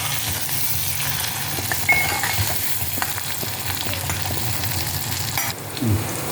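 Steady sizzling of small onions frying in a pan for a Tamil kuzhambu, with occasional stirring scrapes and light clinks, no voices.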